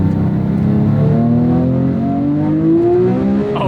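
A Porsche 997 GT3 engine in sport mode pulls hard under acceleration, a loud rising howl climbing steadily in pitch through the revs, heard from inside the car with no talking.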